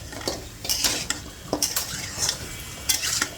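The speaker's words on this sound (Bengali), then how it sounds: "দিয়ে ভালো করে একটু নাড়াচাড়া করবো, একটু কিছুক্ষণ জাল করবো" Nihari meat being stirred in a cooking pot, a spoon scraping and clinking against the metal in a few separate strokes, close and moderately loud with no talking.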